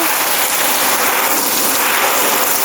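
Water sprayed onto dry garden soil covered with spunbond fabric where tomatoes were sown gives a loud, steady hiss of pattering spray, close and continuous, with no talk.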